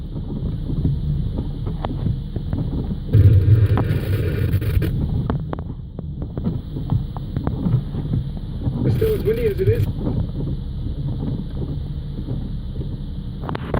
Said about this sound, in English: as the wind gusts pick up, it just picks up the water and just flings it